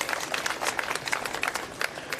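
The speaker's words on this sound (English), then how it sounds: "give her a round of applause" A crowd at a remembrance ceremony applauds, with steady, moderately distant clapping from many hands and occasional sharper individual claps standing out.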